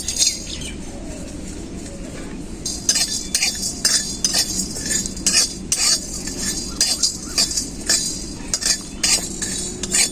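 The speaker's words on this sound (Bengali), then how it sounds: "দারুচিনি, জায়ত্রী, জায়ফল, গোলমরিচ, ধনে, জিরে, এলাচ, লং একসাথে সবগুলো শুকনো কড়াই ভেজে নেব।" Whole spices, cinnamon, mace, nutmeg, black pepper, coriander, cumin, cardamom and cloves, are dry-roasted together in a dry karahi, a metal spatula scraping and clinking in quick repeated strokes over a low rattling sizzle.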